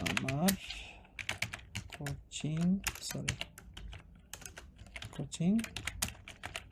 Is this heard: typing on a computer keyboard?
yes